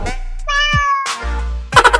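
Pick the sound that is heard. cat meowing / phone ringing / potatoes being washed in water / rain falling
cat meowing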